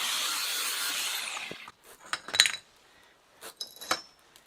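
Saw rasping through what remains of a bicycle frame, a steady close cutting stroke for about a second and a half, then scattered metallic clinks and scrapes as the work stops.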